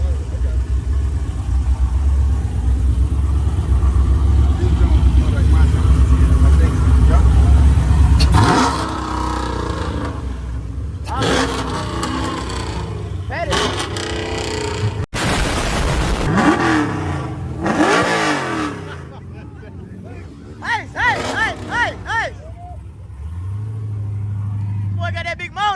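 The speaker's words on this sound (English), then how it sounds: "Boy got that big motor in that thing." A Mopar car with a big engine revs at a car meet, a loud, sustained rumble that drops away, followed by sharper intermittent bursts, with people talking throughout.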